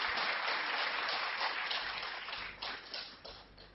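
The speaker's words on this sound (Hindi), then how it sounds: "तो एक बार फिर हम राजीव भाई को अब सुनेंगे और मेरी गुजारिश है कि आप जोरदार तालियों से उनका स्वागत करें।" Audience applause welcoming a speaker at a Hindi health talk, steady dense clapping from a crowd that gradually thins and softens toward the end.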